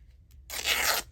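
Paper is ripped by hand during a crafting session, one quick close tearing burst lasting about half a second after a brief quiet pause.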